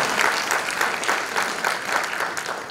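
Audience applause at a community information meeting, a steady wash of clapping from a room full of people that holds at an even level throughout, with no speech over it.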